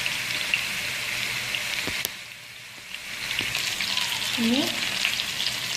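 Chicken kababs sizzling in a pan, a steady soft frying hiss with small crackles, while a few words are spoken briefly.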